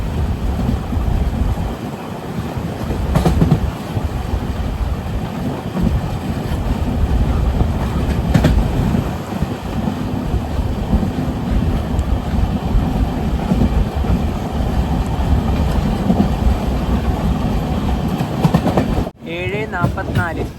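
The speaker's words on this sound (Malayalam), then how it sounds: "ട്രെയിനിൽ മുരുടേശ്വർ റെയിൽവേ സ്റ്റേഷനിലെത്തി." Inside the Panchaganga Express on its run along coastal Karnataka toward Murudeshwar, a loud, continuous rumble of wheels on rails carries on throughout. Faint rhythmic clatter and wind noise sit within it, and nobody speaks.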